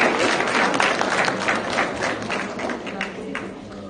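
An audience at a panel discussion claps in a dense, steady patter that fills the whole stretch and eases slightly toward the end.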